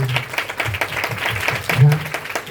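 Applause from a crowd, a steady patter of clapping with a voice talking over it.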